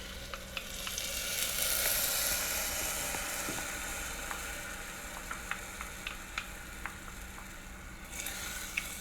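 Rice wine vinegar and honey sizzling in a hot pan, a steady bright hiss with scattered small pops and ticks and a faint utensil click or two, close up with no talking.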